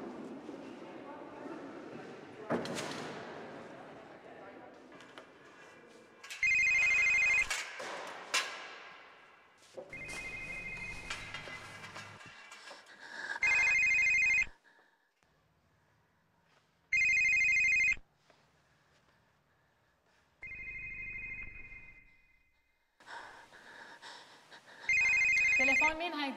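A telephone rings in short bursts of electronic ringing, five separate rings spaced a few seconds apart, loud and clear, with people talking and other sounds in the gaps between.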